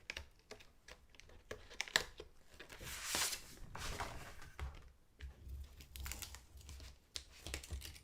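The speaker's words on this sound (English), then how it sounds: "And then I'm going to peel away this next bit slowly." Cut paper shapes peeled slowly off a sticky cutting mat, giving close, crinkly rustling and soft tearing crackles that come in uneven bursts and swells across the stretch.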